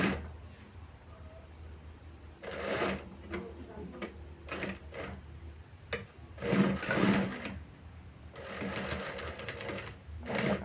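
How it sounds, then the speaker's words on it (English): A sewing machine stitches a sling bag lining in short bursts of rapid mechanical whirring, separated by quiet pauses, close and clear. "Put in the lining, then stitch with 1 centimeter seam allowance."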